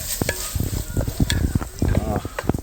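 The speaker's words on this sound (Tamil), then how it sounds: "எல்லாம் மிக்ஸ் பண்ணினேன் அந்த வெங்காயம் இஞ்சி அந்த பூண்டு அந்த மசாலா" Onion, ginger, garlic and masala are stirred in a frying pan at a riverside campsite in Horsham, England: loud, close scraping strokes over a steady sizzle.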